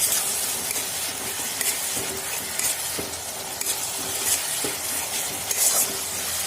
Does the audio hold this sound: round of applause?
no